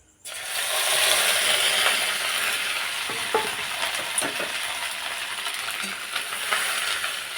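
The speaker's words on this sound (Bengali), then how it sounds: "তেলটা গরম হয়ে গেছে এখন মেখে রাখা ডিমগুলো ভেজে নেব" Fish roe dropped into hot mustard oil in a wok, bursting into a loud, steady, close sizzle that holds throughout, with a few faint utensil knocks against the pan.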